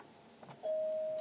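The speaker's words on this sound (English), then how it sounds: "My doorbell just rang." A home doorbell sounds once, a single clear sustained electronic chime rising suddenly out of a quiet room and holding steady.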